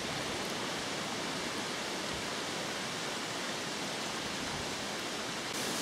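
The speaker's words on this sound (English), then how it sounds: "complete with Babbling Brook." A babbling brook runs through a woody valley on Jersey, its steady rushing wash of water filling the air evenly and continuously with no voices.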